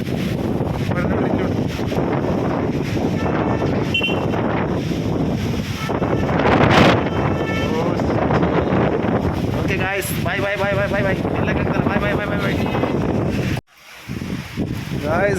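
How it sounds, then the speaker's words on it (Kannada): Gusty dusty wind during a Bengaluru rainstorm roars steadily against the microphone, loud and continuous for most of the stretch before dropping off briefly near the end, with a voice speaking over it. "ಇಷ್ಟೊತ್ತವರೆಗೆ ಧೂಳ ಗಾಳಿ ಬಂದಿತ್ತು"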